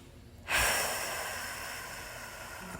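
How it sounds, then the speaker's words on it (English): Deep breathing during a yoga stretch for an advanced eight-angle pose warm-up: after a quiet moment, a long, steady, airy exhale begins close by and fades gradually, with no talking. "taking deep breaths here."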